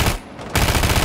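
Automatic gunfire through a wall in Rainbow Six Siege, a loud close rattle of rapid shots with a brief lull before the burst resumes at full intensity.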